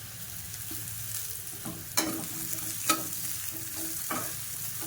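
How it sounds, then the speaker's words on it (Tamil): Lemon rice ingredients sautéed in a pan over a medium flame, a steady low sizzle with occasional sharp scrapes and clinks of a stirring spoon against the metal, close up and without voices. "இது பச்சை வாசனை போகிறது மீடியம் ஃப்ளேமில் வச்சு வதக்கிக்கணும்"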